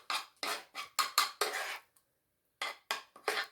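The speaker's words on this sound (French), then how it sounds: "Je mélange bien le jaune, les 4 jaunes d'œufs avec le sucre" Bursts of a whisk beating four egg yolks with sugar in a bowl, rhythmic scraping strokes in quick groups with a short pause midway, close and fairly loud, no talk.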